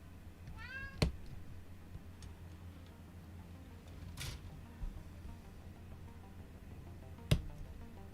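A cat meows once in a quick rising-and-falling cry near the start, against quiet room background with a few soft clicks and knocks.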